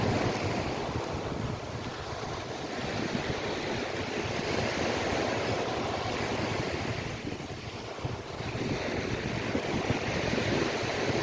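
Ocean waves rolling in on Fort Myers Beach, a continuous broad wash of surf mixed with heavy wind rumble against the microphone, steady and fairly loud throughout with no voices.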